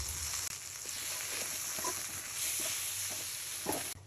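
Ground spices and ginger-garlic paste fry in a pan with a constant low sizzle and faint scattered stirring ticks, a short dip near the start and an abrupt cut at the end.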